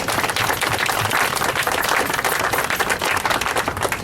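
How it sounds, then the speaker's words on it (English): A campaign-event crowd claps in dense, steady applause from start to finish, loud and continuous with no speech over it. "Let's clap our hands for Mayor Chokwe Lumumba"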